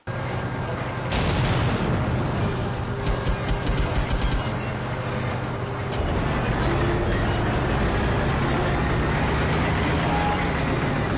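A tank cannon fires in the video game Hidden Dangerous 2, with heavy booming blasts over a loud, continuous engine rumble that persists throughout.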